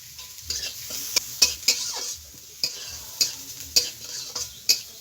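Lentils fry with salt and turmeric in a pan under a soft sizzle, while a spoon scrapes and taps the pan about a dozen times in a loose, uneven rhythm.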